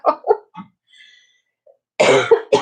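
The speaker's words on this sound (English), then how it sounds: "I'm trying not to cough a whole bunch through" A woman coughs several times in short, close bursts, then goes quiet before a harsher, louder cough cluster at the end.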